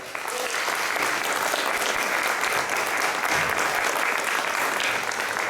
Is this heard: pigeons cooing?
no